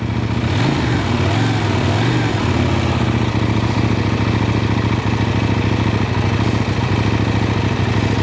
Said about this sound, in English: the character of this bike is absolutely defined by the engine